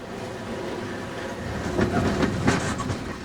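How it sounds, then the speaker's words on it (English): A cut of freight cars being shoved down a rail yard track by Conrail locomotives in winter, with steady rolling rumble and rhythmic clickety-clack of wheels over rail joints, swelling slightly midway, no voices. "The cut of cars being set out is pushed relentlessly down the yard track."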